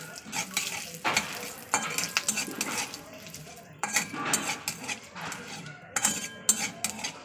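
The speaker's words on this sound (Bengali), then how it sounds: "তো একটু তেলে ভাজা করে নিতে হবে" Whole spices for tempering—cumin, a bay leaf, cloves and black pepper—fry in hot oil, with a close sizzle broken by repeated scraping and clinking of a metal spatula against the pan.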